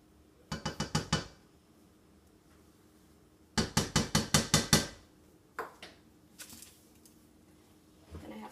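Metal utensils clink and knock against a cooking pot as cocoa powder and peanut butter go into a boiling mixture, in two quick bursts of rapid taps followed by a few softer scattered knocks, close by with no talk.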